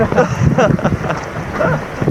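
Heavy wind buffets the microphone with steady roaring gusts and rain noise while walking outdoors in a Welsh storm, loud and continuous throughout.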